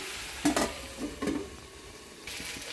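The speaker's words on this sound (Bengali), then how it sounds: "আর একটুখানি ভাজা হোক, ঢাকা দিয়ে রাখি।" Potatoes for chorchori fry in a pan with a quiet sizzle, punctuated by a few scraping stirs and brief clatter. The pan sounds close but soft, with no talking.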